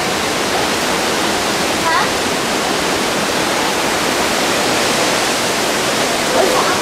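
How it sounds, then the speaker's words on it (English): Heavy rain from Hurricane Lili in Louisiana pours in a dense, steady roar with no letup, hissing loudly and evenly throughout. "It's pouring."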